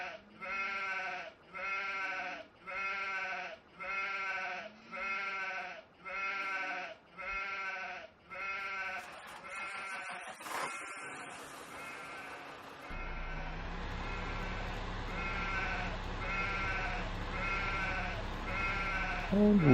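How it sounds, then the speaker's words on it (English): Sheep and lambs in the Farming Simulator 15 video game bleating in a regular repeated rhythm, about eight evenly spaced calls, followed by a steady low engine-like drone. "look at them. The little lambs here."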